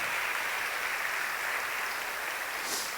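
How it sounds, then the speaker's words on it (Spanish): A church congregation applauds, a soft, even wash of many hands clapping that sounds somewhat distant and steady throughout. "Dale un fuerte aplauso al Rey de Reyes"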